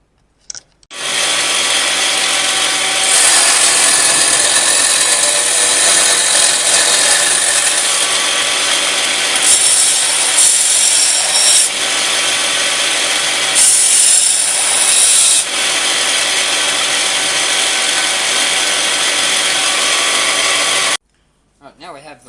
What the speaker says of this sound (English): Sharpening.